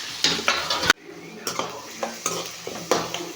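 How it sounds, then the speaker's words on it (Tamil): Onion, curry leaves and crushed garlic frying in a pan with fenugreek seeds, a loud sizzle broken by a sharp splash as they drop in, then rhythmic spoon scrapes and clinks against the pan, close and without talk. "வெங்காயம் போட்டுக்கலாம். நசுக்கி வச்ச பூண்டையும் போட்டுக்கலாங்க."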